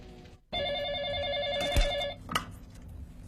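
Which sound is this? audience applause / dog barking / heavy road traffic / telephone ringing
telephone ringing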